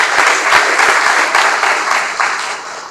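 Steady crowd applause of many hands clapping, fairly close, with no one speaking over it.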